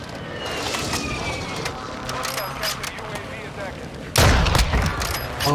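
A single sniper rifle shot rings out loud and close in a first-person shooter on Ashika Island, a sharp boom near the end that cuts through dense game noise and callouts.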